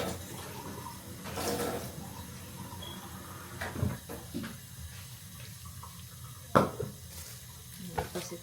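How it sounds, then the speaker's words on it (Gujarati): Cold water is poured into a pot while cooking, a soft running splash with a few clinks and knocks of utensils, fairly quiet, with brief talking in the background. "આપણે થોડું ઠંડુ પાણી નાખીશું."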